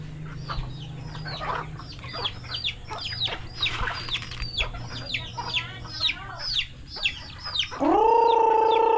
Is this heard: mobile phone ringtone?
no